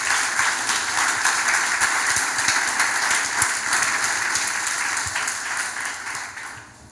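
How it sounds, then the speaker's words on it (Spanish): Loud, dense applause from a church congregation during a sermon, sustained steadily for several seconds before fading toward the end, with no one speaking over it. "Aplaude al Señor fuerte."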